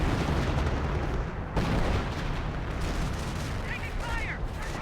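Dense battle gunfire and artillery rumble fill a Company of Heroes 1 multiplayer match, with continuous overlapping shots and booms and a brief voice near the end.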